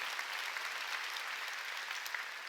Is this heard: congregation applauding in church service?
yes